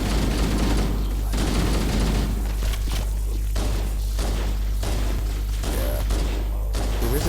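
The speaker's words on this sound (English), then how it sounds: "Rocket launcher." Rocket launcher fire in Halo: Combat Evolved Anniversary, heavy repeated blasts and thuds over a dense, loud game background of gunfire and low rumble.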